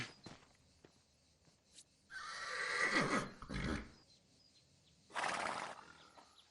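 A horse on a farm gives a drawn-out whinny, then a shorter second neigh, heard close but fairly soft against a quiet background.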